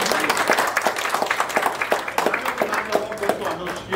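Audience applause for a team at a corporate team-building event, a crowd clapping steadily and fairly close for several seconds, with voices mixed in under the clapping.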